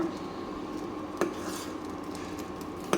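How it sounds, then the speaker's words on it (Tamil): A spoon scrapes and stirs grated coconut through a mixture in a metal pot, a continuous soft rasp broken by two sharp clinks against the rim. "சேர்த்துக்கிட்டு நல்லா கிளறி விட்டுக்குங்க"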